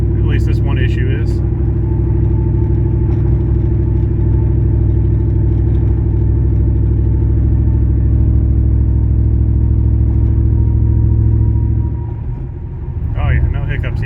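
A truck on a test drive after fuel repairs, heard from inside as a loud, steady engine rumble climbing uphill without stumbling, easing off near the end; a voice speaks briefly.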